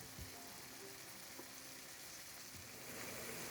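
Cabbage and moong dhal cook in a pan with tomatoes, giving a soft, continuous sizzle and crackle that stays faint and even throughout.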